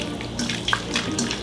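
Hands are rinsed under running water at a kitchen sink after mixing food with oil, a steady close splashing stream with small shifting gurgles, heard alone.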